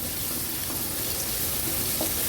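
Chopped large onion sautéing in hot oil for an Agri-style traditional dal mundi, a steady broadband sizzle close by with no voices.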